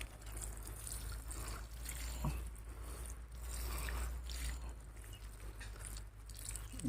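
Water is poured onto the soil medium of a potted tamarind stem cutting, a soft continuous trickle and splash close by, fairly quiet over a low background hum.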